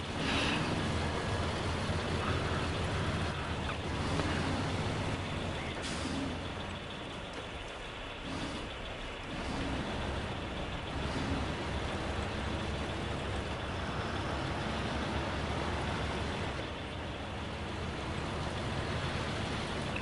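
A truck hauling a trailer in the off-road driving game SnowRunner gives a loud, steady engine drone that runs unbroken and fills the sound throughout.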